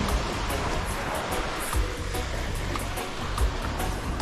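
Sea surf washing steadily near a beach at a Maldives resort, a continuous broadband rush with soft swells, close by and fairly loud, with no talk over it.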